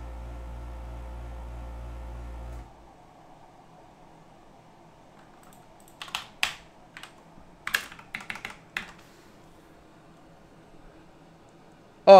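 Close keyboard typing comes in several short bursts of clicky keystrokes, following a steady fan-like drone that stops early, in a quiet room.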